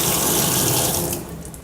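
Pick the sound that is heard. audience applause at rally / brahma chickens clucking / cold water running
cold water running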